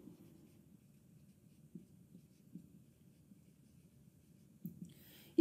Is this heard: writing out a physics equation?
yes